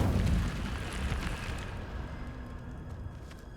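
A fire spell bursts out in Hogwarts Legacy with a loud whooshing roar at the start, then fades into a lingering crackling rumble.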